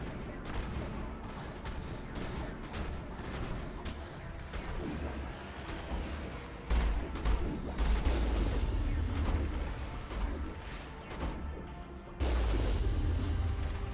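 Heavy cannon fire in the Mass Effect video game, a continuous barrage of deep booms and explosive blasts with loud low rumbling surges near 7 and 12 seconds, dense and close throughout.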